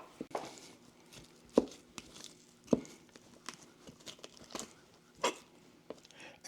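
Knife trimming loose fat off raw chicken breast for charcoal grilling, faint scattered cuts and soft tearing with a few sharper clicks across several seconds, close and quiet.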